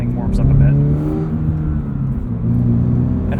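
Toyota GR86 with GR Performance Exhaust revving: a loud, sustained engine note that climbs and settles as revs change, with someone talking over it.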